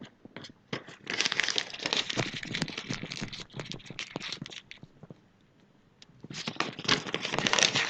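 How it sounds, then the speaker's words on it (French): Paper strips are crumpled and pressed into compact balls, giving close, dense crinkling and crackling in two long bouts with a short quiet pause between. "Et avec chacune des bandes de papier, vous allez faire une boule."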